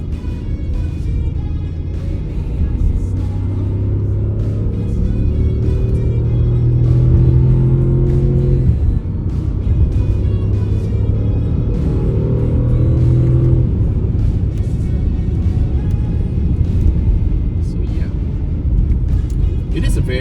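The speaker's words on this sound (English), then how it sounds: "Very, very good sounding car." A 2022 Audi SQ8 engine pulls hard in second gear on a road drive in Singapore, a loud, steady rumble that swells and holds, heard from inside the cabin with someone talking over it.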